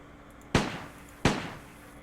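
An M1928A1 Thompson submachine gun in World of Guns fires two separate sharp, loud single shots about 0.7 seconds apart. Each crack decays quickly into quiet, with no talking.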